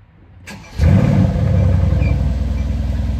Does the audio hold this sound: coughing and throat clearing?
no